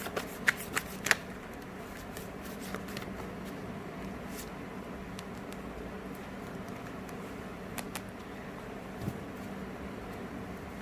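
Tarot cards shuffled by hand make a steady, soft riffling hiss throughout, with a few sharper card snaps near the start, close and alone without talk.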